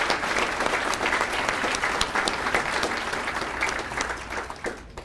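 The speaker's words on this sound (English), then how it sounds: "Give yourselves a round of applause." Parents and guardians at a North Country All-Stars reception applaud with full, even clapping from a crowd for about five seconds, tapering slightly near the end.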